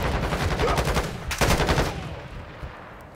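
Rapid automatic gunfire from a Call of Duty: Modern Warfare II multiplayer match, dense bursts of shots close and loud with a sharp volley near the middle, fading toward the end.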